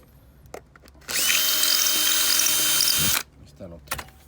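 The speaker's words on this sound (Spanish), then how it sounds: "a hacer los hoyos más grandes para que entre en nuestra pieza." A power drill enlarges mounting holes for a cup holder in a Freightliner Classic or FLD120 truck cab, one sustained whirring burst of about two seconds, close and loud, with brief clicks and a voice before and after.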